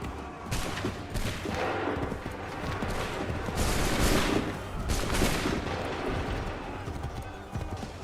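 Musket volleys crack out in an Assassin's Creed III battle, repeated bursts of massed gunfire rising and falling over a dense, rumbling background, moderately loud with no clear talk.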